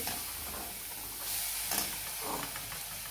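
Green chilli paste sautés in a pan for vada pav, a soft, steady sizzle and hiss with a few faint scraping stirs, heard quietly and alone.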